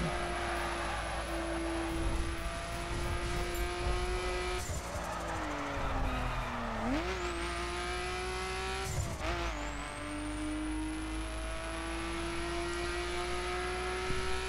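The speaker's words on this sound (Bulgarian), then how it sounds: "Колата е направена с много добър звук, само неко турбото много пищи." A Nissan Skyline GT-R engine in the video game The Crew roars steadily with a high, piercing turbo whine, pitch dropping and rising as it shifts and accelerates, loud and close.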